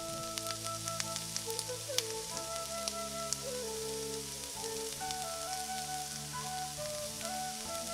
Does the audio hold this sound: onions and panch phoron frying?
yes